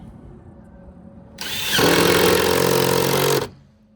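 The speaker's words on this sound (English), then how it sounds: "I'll drill a new hole like right here on the edge." A power drill whirs up to speed and bores into wood near the edge of a barn door for about two seconds, its pitch dropping under load, then cuts off. Quiet room tone sits around it.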